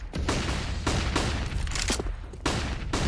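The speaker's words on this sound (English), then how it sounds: "That is so many flashbangs." Sharp bursts and thuds pop in quick irregular succession as a barrage of flashbang grenades goes off during a Counter-Strike match, loud and close, several blasts overlapping within a few seconds.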